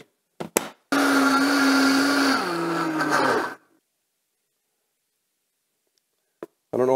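A Vitamix blender crushing a full load of ice roars loud and steady for about three seconds, its pitch dropping slightly as it bogs down under the load, then cuts off into silence, with brief knocks at the start and end.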